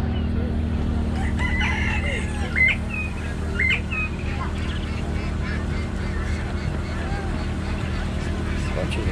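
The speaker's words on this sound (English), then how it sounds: "Bunch of quail." A group of quail calls outdoors in short, repeated chirping notes at moderate distance over a steady low background hum.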